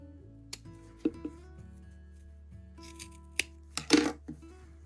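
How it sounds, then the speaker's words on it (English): Scissors snip off excess zipper tape on a doll-size pencil skirt, a few short, crisp cuts spaced unevenly over a quiet background, with one louder cluster near the end. "cut off the extra zipper tape"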